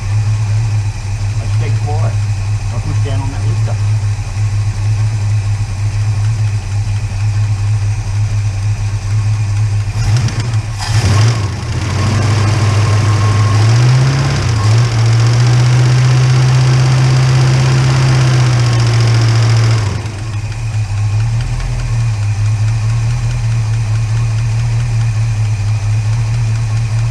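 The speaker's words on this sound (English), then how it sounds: "how do you get rid of fucking lifter noise" A Holden HK engine idles with a steady low hum, a noisy lifter ticking within it, while a brief clatter and a slight rise in engine tone come midway before settling back to idle.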